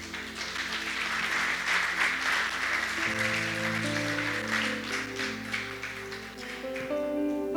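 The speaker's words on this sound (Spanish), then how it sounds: "Denle un fuerte aplauso al Señor." A church congregation gives strong, steady applause for the Lord, the dense clapping running throughout while keyboard chords play underneath and shift partway through.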